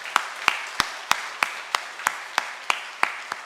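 A church congregation claps to welcome a member at a Sunday morning service. The claps come in a steady, even rhythm of about three per second, roomy and moderately loud.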